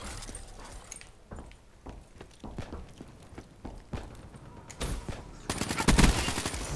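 Multiplayer gunfire in Call of Duty Black Ops 3 on PS4 pops in rapid scattered shots and bursts, growing denser and louder toward a heavy final barrage.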